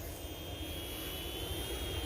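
UMX Yak 54 RC model airplane flying outdoors in strong wind, a continuous buzzing motor whine mixed with wind noise, steady and fairly faint.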